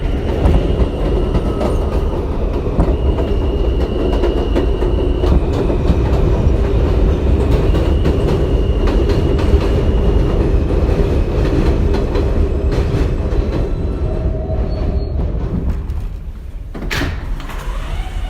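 A Queens-bound M local train on the New York City subway runs steadily with a loud, continuous rumble and rail clatter, easing slightly near the end.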